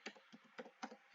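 A computer keyboard is typed on while searching in a Figma graphic design session, with about five soft, evenly spaced key taps heard close and faint.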